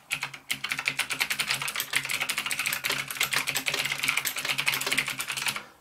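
Fast, steady typing on an NKEY R3 RGB mechanical keyboard, with dense, close clacking keystrokes running continuously for several seconds and no voice over them.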